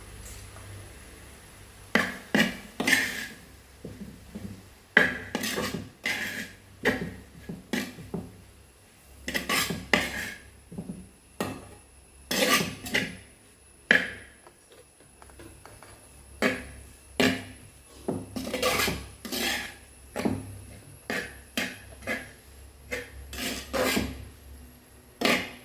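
A utensil scrapes and knocks against a pan as grated coconut is stirred into cooked Kerala-style leaf thoran. The strokes come in repeated bursts of close, dry rasping with short pauses, and there is no talk.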